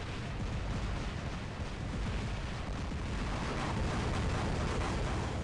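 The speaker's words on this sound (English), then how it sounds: "I'm just going to fire my Embers just to push them back a little bit." Ember flamethrower weapons firing in the War Robots game, a sustained, dense roaring whoosh of flame that holds steady and loud throughout.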